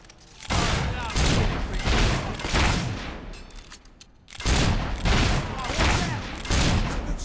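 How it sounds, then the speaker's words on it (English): Loud bursts of gunfire in the Fable III video game: two dense volleys of shots, the first lasting about four seconds, then a brief lull, then a second barrage, with voices mixed into the fighting. "Good shot with a gun."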